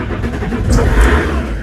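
A Fiat Marea 130HLX engine cranking and catching, rising into a loud, close rumble that settles into idle, all within a second or two.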